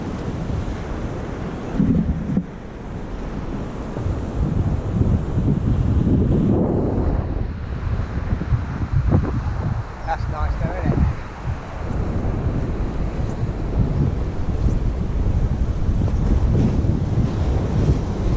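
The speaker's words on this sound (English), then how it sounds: "To get a few breakers coming back in again now." Breakers roll onto a North Norfolk fishing beach in steady, loud surges, with heavy wind buffeting the microphone throughout.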